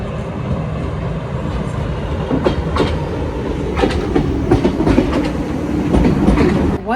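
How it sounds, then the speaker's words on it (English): A train rolls past just outside a window near the valley of Chamonix, a steady loud rumble with rhythmic clickety-clack of wheels over rail joints that swells slightly toward the end. "here comes a train."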